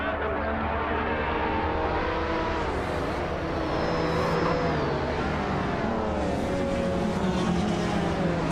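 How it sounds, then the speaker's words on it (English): A 1992 Jaguar XJ220 supercar accelerates hard off the starting line in a racing video game, its engine droning loud and steady throughout with rising, overlapping engine tones from other cars nearby. "Steve Jumper takes an early lead, showing strong acceleration off the line."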